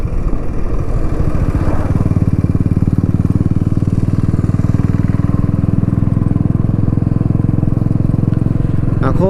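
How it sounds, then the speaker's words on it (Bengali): A motorcycle rides along a road toward the hills, its engine droning loud and steady close by the whole time, with a brief clatter near the end. "এরকম রাস্তা দিয়ে বাইক চালাচ্ছি আর সামনে পাহাড়"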